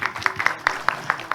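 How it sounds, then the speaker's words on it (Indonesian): Applause from an audience at a religious gathering, heard as a short, even run of claps rising out of faint background murmur. "Boleh tepuk tangan buat Mas Tri"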